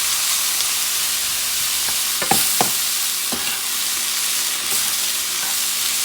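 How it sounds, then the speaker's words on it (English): Wild rice sizzling in a hot pan with vinegar, a steady bright hiss of frying with a few soft scrapes and clicks of stirring, no voices. "And I'm going to add the rice because I'm heating it up."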